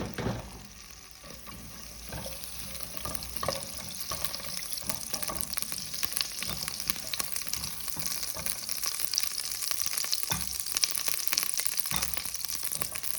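Butter and oil frying in a pan while Iraqi pan kebab is made, a continuous soft sizzle with occasional crackles and pops, fairly quiet and close, with no voices.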